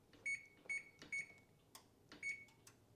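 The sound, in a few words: oven control beeping as it is set to 325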